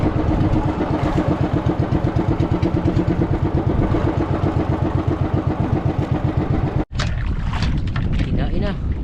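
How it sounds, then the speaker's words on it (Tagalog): A fishing boat's engine chugs at sea in a fast, even rhythm, loud and close, running steadily for several seconds apart from one very brief dropout near the end. "Natatakot sa tunog ng makina."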